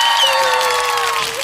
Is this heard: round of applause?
yes